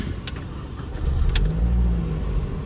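A Mini Cooper S 170 hp engine turns over, catches with a low rumble and settles into an idle, heard from inside the car over a short span.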